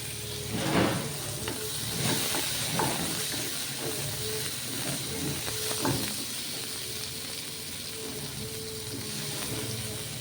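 A single tomato frying in a pan over medium flame alongside reddened onions, giving a steady close sizzle with scattered stirring scrapes and pops, no talking.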